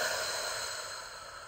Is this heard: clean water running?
no